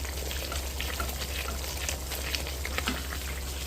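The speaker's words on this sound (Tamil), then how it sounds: "இப்போ இந்த பக்கம் அதே மாதிரி இன்னொரு தோசை போட்டுருக்கோம்" Dosa batter cooking on a hot griddle, a steady bright sizzle with crackling pops at an even level throughout, close and alone with no talk.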